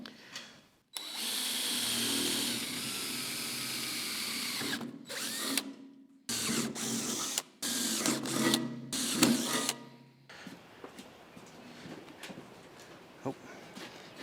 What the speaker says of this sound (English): I just need to drill out the mounting holes